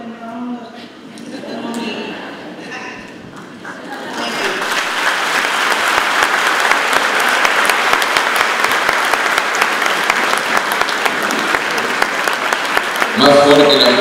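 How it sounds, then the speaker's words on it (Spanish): A large audience at Universidad César Vallejo applauds Nobel laureate Jody Williams; a voice speaks over a quiet room at first, then loud, sustained clapping swells and fills the hall, with speech resuming faintly at the close. "Más fuerte el aplauso para esta mujer extraordinaria"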